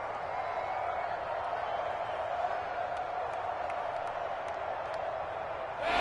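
A steady, dense roar from the Kansas City stadium crowd in a football video game on PS4, holding constant throughout and swelling louder in the final moment.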